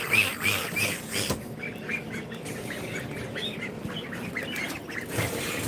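A crowd of baby ducks at a hatchery peeps and quacks in rapid, overlapping calls. The chatter is busy and close, with a few louder bursts, and no talk is heard.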